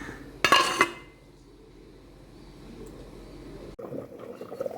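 A metal lid set down with a brief clanking clink onto a pot of fish curry, followed by quiet low bubbling from the simmering pot.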